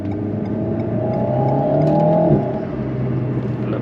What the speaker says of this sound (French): On entend le turbo qui siffle